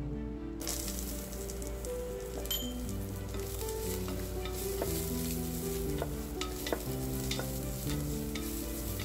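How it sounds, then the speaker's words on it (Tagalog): Onion and spices sautéing in chicken oil, a steady close sizzle and frying hiss with soft stirring scrapes and occasional pan clinks throughout, no talking. "Igisa natin ng mabuti yung ating mga spices."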